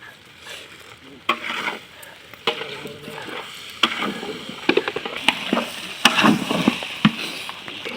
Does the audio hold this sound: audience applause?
no